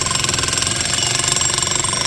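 Jackhammer driving rebar into the ground as a ground rod through a welded tube adapter, a loud rapid steady hammering clatter running continuously throughout.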